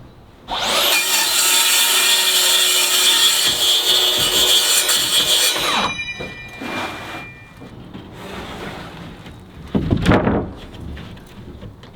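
A saw rasps through a board being trimmed for a flat roof, loud and steady for about five seconds, then stops, leaving quieter scraping, handling knocks and a short burst of rubbing.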